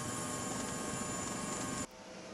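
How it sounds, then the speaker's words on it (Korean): A coast guard helicopter arriving at a sinking ferry, its steady broadband rotor and engine roar filling the air loudly before cutting abruptly to a quieter hum. "해양경찰 헬기가 도착했을 때"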